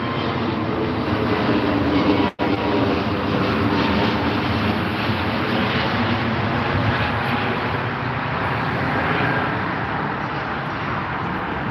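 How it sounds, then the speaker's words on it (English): A British Airways airliner roars past at Heathrow, a loud, sustained broadband jet rumble that holds steady for the whole stretch with one brief dropout, and no voices over it. "Another BA flight. There we go."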